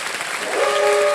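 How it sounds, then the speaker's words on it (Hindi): A KBC game show studio audience applauds a departing contestant, a brief burst of dense clapping that swells slightly in volume over a second. "तालियों के साथ इनका हम"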